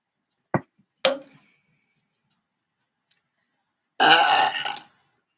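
A short belch-like croak stands out among a couple of sharp ticks and a longer rough blast near the end, all close and isolated against silence.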